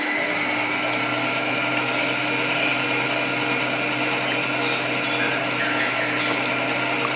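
Electric mixer running at high speed whipping egg whites for a pandan marble sponge cake, a loud, constant motor whine with steady whirring throughout and no pauses.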